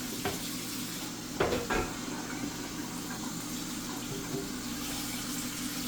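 Running tap water rushing steadily in a home kitchen while chicken souvlaki is prepared, a constant close hiss with a few brief knocks and clinks of something being rinsed, no talking.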